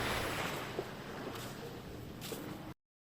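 Continuous wash of sea waves, with a few soft surges rising and falling, then abrupt silence near the end.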